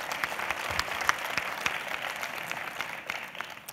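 A conference audience at a round-table event claps steadily for a few seconds, a dense patter of hands that holds level and then thins slightly toward the end, with no voices over it.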